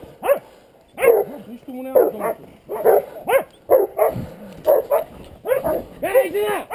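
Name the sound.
hunting dogs barking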